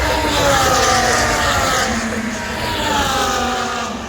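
A Formula 1 car screaming past at Silverstone, its high engine note loud and close, holding steady then easing slightly as it goes by, with faint commentary underneath.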